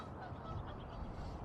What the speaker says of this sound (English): They be honking.